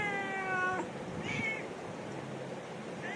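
A pregnant cat meows loudly and close by, one long drawn-out cry followed by a shorter, higher meow, then quiet background.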